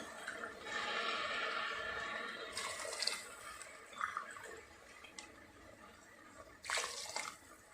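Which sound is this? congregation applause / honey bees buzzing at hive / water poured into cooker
water poured into cooker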